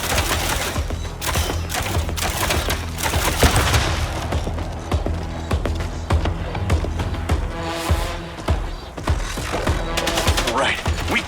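Sustained rapid gunfire from the video game MindsEye rattles loud and dense throughout, with bursts of automatic fire layered over a constant game soundscape and occasional sharper single shots.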